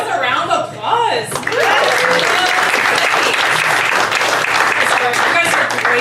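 A stand-up comedy show audience breaks into loud, sustained applause and cheering after a brief moment of voices and laughter.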